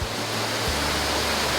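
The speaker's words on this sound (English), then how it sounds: "is that not a beautiful sight to see water falling over that" A waterfall in the Arkansas Ozarks, running after recent rain, roars as steady, dense broadband rushing water, loud and continuous throughout with no voices over it.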